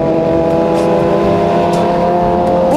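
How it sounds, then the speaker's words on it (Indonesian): A Honda Vario 160 scooter engine drones steadily at high revs while racing, loud and close, with a constant buzzing tone and no pauses. "Vario 160 ajak balapan eh."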